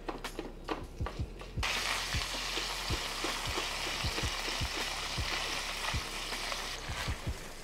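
Chorizo sizzles and fries steadily in a skillet while a spatula scrapes and breaks up the meat in repeated sharp taps and scrapes, close and fairly quiet.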